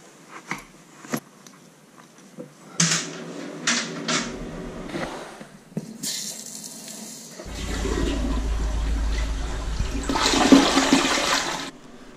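Toilet flushing after a newly connected bathroom water line is test-run, preceded by a few clicks and knocks, then a loud close rush of water that swells and drains away.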